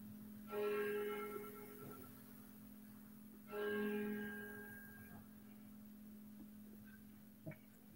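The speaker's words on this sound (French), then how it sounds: "C'était une très longue cloche." A bell struck twice, each strike ringing out loud and then fading slowly over a couple of seconds, heard alone over a steady low hum, with a small tap near the end.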